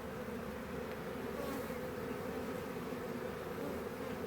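A honeybee swarm streams down a post toward nearly covered ground, giving a steady, dense buzzing hum that stays loud and even throughout, with no voices.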